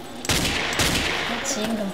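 Gunfire in the video game Ace of Spades: a burst of rapid shots starts the clip, followed by a dense run of loud crackling fire with a short later volley.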